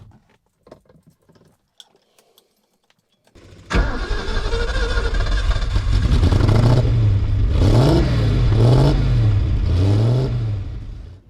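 A car engine cranks and catches after a few seconds of near silence, then idles loudly while being blipped with throttle several times in a rising, falling rhythm, close by with no talking.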